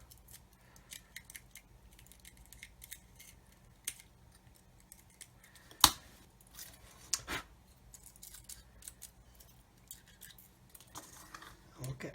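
Trimming a plastic part on a Revell 1/144 Apollo Saturn V model kit: sparse, close snips and small clicks, with one sharper cut standing out above quiet background noise.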